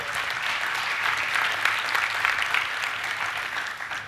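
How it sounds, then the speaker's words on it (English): Sustained applause from a large audience at a sports foundation summit, honoring a 14-year-old Paralympic silver medalist; steady dense clapping throughout with no talking. "give him a round of applause"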